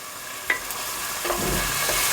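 Chicken curry with passata stirred in a pan, with soft scraping and a low sizzle building steadily through the short stretch, close and moderately loud with no talking.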